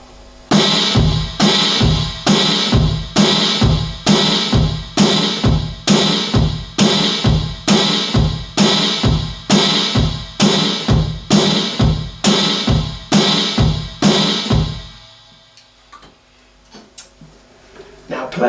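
Drum kit groove with cymbals crashing together with the snare on one and three and the bass drum alone on two and four, a loud, steady pattern repeating for about fifteen seconds before stopping.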